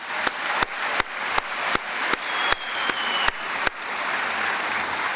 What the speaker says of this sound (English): Let's give Ben a great round of applause.